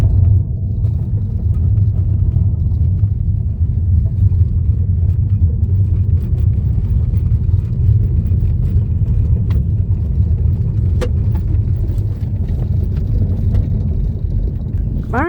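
A car driving fast on a road as asphalt gives way to gravel, heard as a steady, loud low rumble of engine and tyre noise from inside the vehicle throughout, with no talking.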